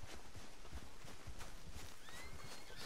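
Horse in Red Dead Redemption 2 neighs with a rising whinny amid steady clip-clop of hooves and dense game ambience, fairly close and continuous throughout.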